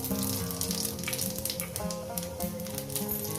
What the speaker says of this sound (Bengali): পাঁচ ফোড়নটা ফুটে যাবে